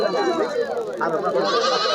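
Goats tethered in pairs at a village goat market after Eid bleat close by, a wavering nasal cry running for a couple of seconds amid people talking.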